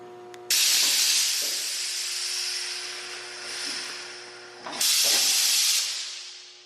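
Air hisses steadily and loudly from a dyno's release valve, a close continuous rush with a faint hum beneath that swells again near the end before tapering off.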